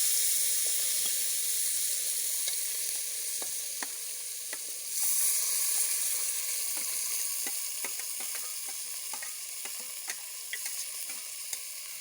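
Chopped onion, tomato, cumin and garlic sizzling in a hot pan, a steady bright hiss with scattered small crackles and pops throughout, close and continuous with no voices.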